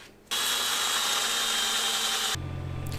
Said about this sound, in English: We're drilling.